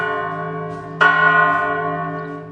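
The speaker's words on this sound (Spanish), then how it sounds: "Ahí, Eric les mostró las 30 enormes campanas" Cathedral tower bells ring from a belfry holding 30 huge bells. A loud metallic strike cuts in at one second over an already humming, layered resonance, then decays slowly into a sustained, shimmering drone.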